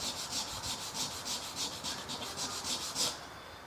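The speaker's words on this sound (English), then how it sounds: "Now, since I want a small roundover, I'm only going to sand it a little bit." Hand sanding the top edge of a wooden guitar with 150 grit sandpaper: steady rhythmic back-and-forth rasping strokes, about a dozen in quick succession, close and clear with no talking.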